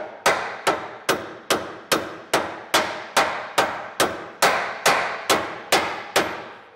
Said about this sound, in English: we can beat right up against the axle tube itself